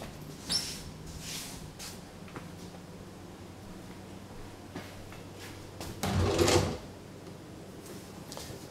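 Kitchen drawers slide open and shut several times, giving scattered rolling scrapes and soft knocks at moderate volume, with one longer, louder slide near the end against a quiet room background.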